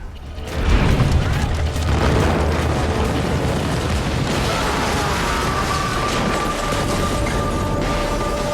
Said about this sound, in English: It was a great explosion.